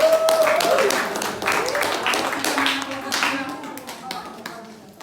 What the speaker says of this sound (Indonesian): tepuk tangan dulu kelompok 2